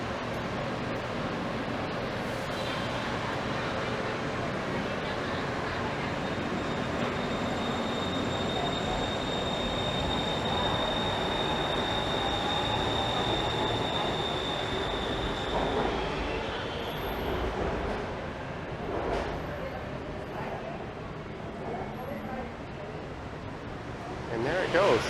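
A BTS Skytrain pulls out of a Bangkok station with a broad rolling rumble, rising wheel noise and a high squeal. A person talks over it, and the train fades toward the end.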